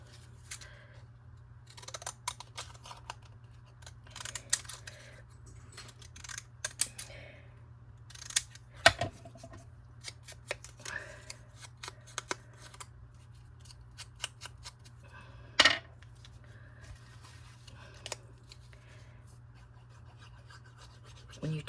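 Scissors snipping through material at close range, a run of crisp irregular cuts with louder snaps near the middle and end, over a steady low electrical hum and no talk.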